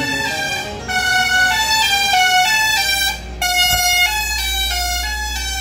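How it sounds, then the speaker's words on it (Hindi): A loud, sustained vehicle horn blares with a pitch-shifting tone, cutting off briefly twice before resuming, close and dominant. "वो सत्राजित मना करके जोर जोर से हॉर्न बजा के वहां से चला गया।"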